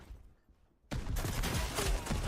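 M249 machine gun firing in the VR shooter Forefront, a sudden onset of dense continuous automatic fire after a quiet moment, loud and close, lasting to the end.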